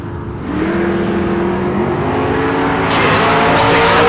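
A 1966 Chevy II drag car with a small block Chevrolet engine idles loudly and then climbs in pitch as it revs hard at a bracket race, a sustained throaty roar that builds toward the end.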